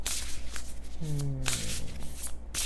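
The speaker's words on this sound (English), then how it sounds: "So let's shuffle these cards" A deck of oracle cards being shuffled close up, with repeated quick riffling rustles and soft slaps, while a brief voice-like tone is heard partway through.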